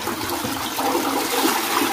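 A household toilet with a siphon flushes close by, a continuous rushing, gurgling wash of water that fills the whole two seconds.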